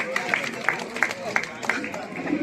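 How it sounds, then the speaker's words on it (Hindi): Claps ring out at a boat-operation meeting held at a riverside ghat, a handful of sharp, evenly spaced hits from a small group, audible under and between ongoing speech. "जोर से बजाइए ताली।"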